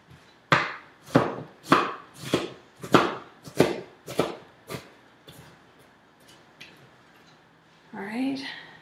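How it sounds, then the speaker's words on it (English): A knife chops red onion finely on a small cutting board, nine or so crisp, evenly spaced strikes close up, then a brief voice at the end. "I'm just going to give it another little chop through just because I want it kind of fine."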